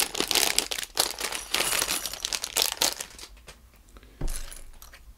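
A small plastic bag of Mega Construx building parts crinkles loudly and close up in dense rustling bursts, then quiets before one last sharp crackle.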